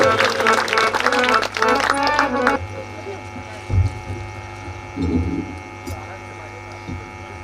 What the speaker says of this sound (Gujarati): તાળીથી વધાવવાના.